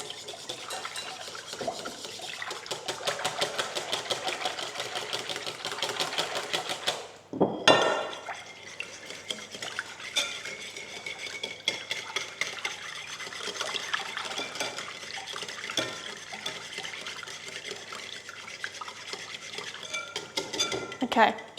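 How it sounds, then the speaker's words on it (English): Vanilla is gently whisked into a bowl of homemade snack ingredients, with a light, rapid metal-on-bowl clatter and stirring scrape, pausing briefly, then resuming with softer clinks and scraping. "Give that a gentle whisk to get all of those ingredients combined"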